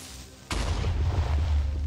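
A sudden, heavy Minecraft explosion bursts in after half a second of quiet, then rumbles on with a low, sustained roar.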